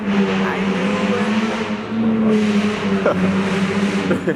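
A loud car revs hard and passes by, its engine roar rising and then fading away, with people talking faintly beneath it.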